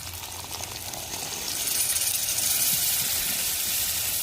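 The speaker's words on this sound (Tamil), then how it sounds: "லைட்டாக தண்ணி ஊற்றிக்கிறோம்." Water poured lightly into a pan of frying dried fish (masi karuvadu) with masala for a thokku, giving a steady loud hiss and sizzle that swells slightly partway through, with no voices.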